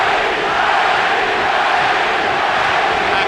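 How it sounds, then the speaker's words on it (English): Boxing arena crowd at the Erik Morales vs Manny Pacquiao rematch, chanting for Pacquiao: a dense, loud, steady roar of many voices filling the hall without a break. "Pacquiao crowd chanting"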